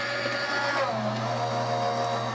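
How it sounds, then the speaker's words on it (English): An Anna Griffin Empress Mini die cutting machine runs with a steady electric motor hum and faint mechanical whir, constant and close with no voices. "We'll turn on our machine and we're gonna hit run."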